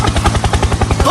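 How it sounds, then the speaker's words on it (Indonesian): A helicopter flies close and loud, its rotor pulsing in a fast, steady rhythmic chop with a deep low thump throughout and no voices over it. "Helikopter, helikopter."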